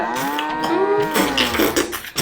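A cow moos loudly and close by, one long drawn-out bellow that wavers in pitch for about two seconds with no other sounds.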